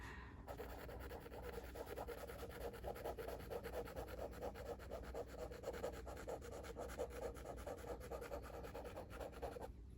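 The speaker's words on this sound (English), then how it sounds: "So it's certainly scratchy, but you know, that's the case with virtually every glass nib pen." A glass nib fountain pen scratches across paper in quick, repeated strokes, giving a soft, close rasping that stays steady throughout and is heard alone.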